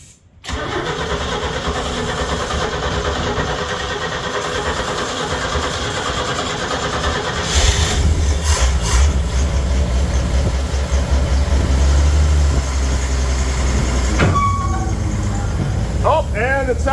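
A vehicle engine running in its lowest gear, likely a shed-built runner, with a steady mid-pitched drone that deepens and grows louder partway through, ending with sharp clatters.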